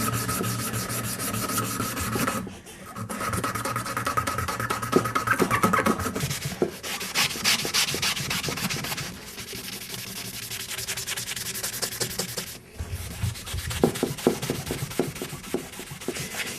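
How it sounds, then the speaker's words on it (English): Sandpaper rubs back and forth over a wooden knife handle in steady, scratchy strokes, close and continuous, with two short pauses and no talking. "Sandpaper, and we'll go in there just like that."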